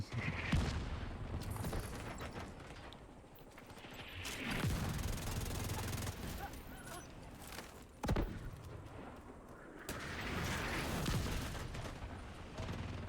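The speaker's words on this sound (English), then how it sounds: "See how frequently these mortars are?" Repeated mortar blasts and gunfire in the Division 2 video game's Tidal Basin stronghold, heavy booms arriving every few seconds with crackling bursts and debris crashes in between, fairly loud.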